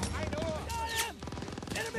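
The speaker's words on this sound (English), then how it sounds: "We need to take that MG." Rapid machine gun bursts and scattered gunfire in the World War II shooter Call of Duty: WWII, dense and continuous under shouted voices of soldiers.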